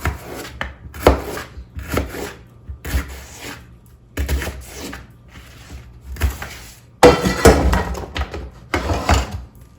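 Knife chopping onion on a cutting board for homemade lasagna: steady rounds of firm thuds and scraping cuts, close and clear, with short pauses between bursts.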